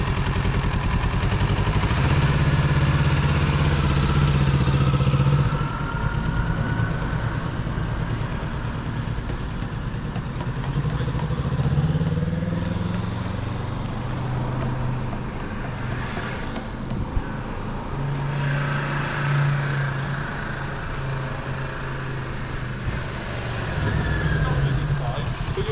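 A motorcycle pulls away during riding practice, its mid-pitched engine rising steadily from idle against traffic and wind noise, with an instructor's voice talking over it throughout.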